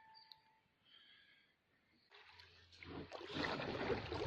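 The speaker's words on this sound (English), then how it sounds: "rowing us to shore because we can hear a waterfall just over there" Oars working a small boat toward shore in Americas Bay, Pittwater, near a waterfall, soft splashes and water churn growing louder over the second half after a quiet start.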